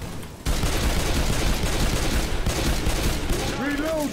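Left 4 Dead 2 video game gunfire: a dense, continuous volley of loud shots fills nearly the whole stretch after a brief quiet start, with a short warbling game tone near the end.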